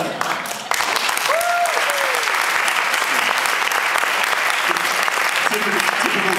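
A convention audience at an interview panel bursts into loud, sustained applause and cheering after a brief quiet moment, with voices calling out through the crowd noise.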